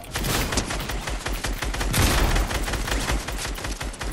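Dense, rapid gunfire rattles without pause in Fortnite, loud and close, with overlapping shots forming a continuous barrage and no talking.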